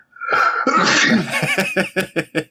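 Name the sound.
sneeze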